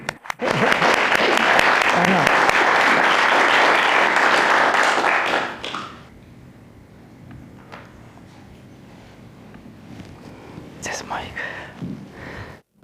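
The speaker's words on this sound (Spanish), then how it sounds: "Un gran aplauso para Zulfi." Dense, loud applause from a church audience fills the first half, then cuts off to a quiet room with faint murmurs and a few small knocks and rustles.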